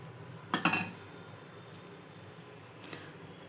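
Hardened jaggery syrup for peanut laddoos, tapped to test its set: two sharp, brittle clicks spaced a couple of seconds apart, the first louder and briefly rattling, against a quiet room.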